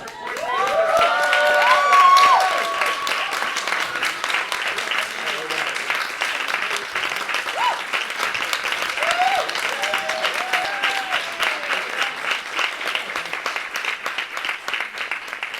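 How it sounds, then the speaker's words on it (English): A live-streamed LGBTQ studies event audience breaks into sustained applause for the event coordinators, with dense clapping and scattered cheers and voices filling the room throughout, loudest at the start. "can we please give a huge round of applause to Michael and Angela for coordinating."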